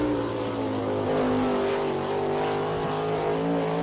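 A sprint car screams through its qualifying lap at Attica Raceway Park in Ohio, a steady high-pitched engine drone holding loud and close throughout with no talk over it.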